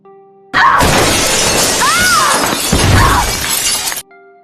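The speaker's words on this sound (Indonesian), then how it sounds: "Kate terjatuh di atap kaca yang retak sampai menimpa Esther." A glass roof cracks and shatters in a film scene as someone falls through it, a loud sustained crash of breaking glass lasting several seconds with tinkling fragments, alone without talk.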